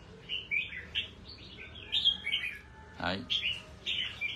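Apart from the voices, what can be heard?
pet songbirds chirping after their bath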